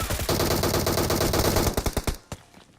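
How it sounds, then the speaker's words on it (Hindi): Automatic gunfire in the mobile game PUBG Mobile rattles in a fast sustained burst, then breaks into a few separate shots and one late crack before fading out, heard alone with no talk. "अब इस क्लिप को एक बार दोबारा देखो और ध्यान से सुनो, गोली की आवाज कब आएगी"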